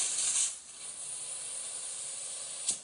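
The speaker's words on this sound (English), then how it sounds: "you're going to hear a little bit of a fizz sound" Steady fizzing hiss of butane gas filling a pencil torch for soldering, close and continuous for a few seconds with a brief louder burst near the end.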